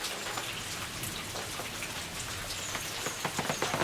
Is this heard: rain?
yes